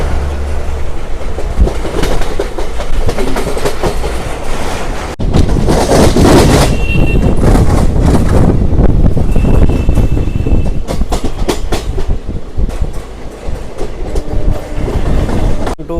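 The Kerala Express, running from Thiruvananthapuram to New Delhi, rushes past close and loud, with a steady roar, rhythmic wheel clatter and a brief squeal as the carriages go by, and no voices.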